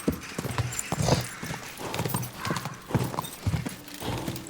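Horse hooves clip-clopping in Kingdom Come: Deliverance, a close, steady series of hoof strikes at a brisk walking rhythm with no talk over them.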